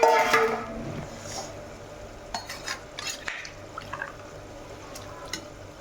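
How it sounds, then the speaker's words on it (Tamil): Water pours into a pot of chicken biryani with a brief splash at first, followed by soft stirring, scraping and dripping sounds close by and no voices. "நானே வந்து தண்ணியை ஊற்றி இது போட போகிறேன்"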